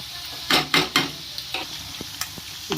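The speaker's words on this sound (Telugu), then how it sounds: "చికెన్ ముక్కలో కలర్ మారుతున్నాయి చేంజ్ అవుతున్నాయి గోల్డెన్ బ్రౌన్ కలర్ వచ్చేంత వరకు ఫ్రై ఫ్రై అవ్వాలి" Chicken pieces frying in a pan, stirred with a few loud scraping strokes early on, then a quieter sizzle broken by light taps of the spoon.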